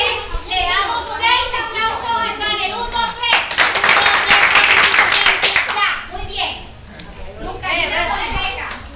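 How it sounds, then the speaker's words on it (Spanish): A group of children claps in unison for a girl named Chanel at a shelter cultural activity in Carreto, Atlántico, a burst of rhythmic clapping of about six beats, with children chattering and an adult talking before and after. "Le damos 6 aplausos a Chanel."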